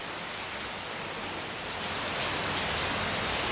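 Steady rain falling in Kerala on a rainy day, a dense, even hiss of downpour that holds constant and swells slightly louder toward the end, with no voices.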